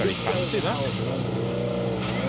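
A Citroen rally car revs past at Donington, its engine rising and falling in pitch as it goes by close, under someone talking.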